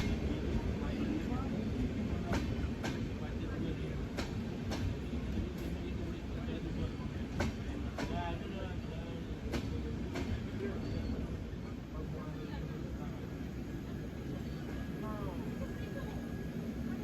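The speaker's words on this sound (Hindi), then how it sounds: "तो यह है Jaipur Udaipur summer special train." Jaipur Udaipur Summer Special train passing at Sareri station in Rajasthan, a steady loud rumble and rattle of rolling coaches that lasts throughout, with faint periodic clacks from the wheels.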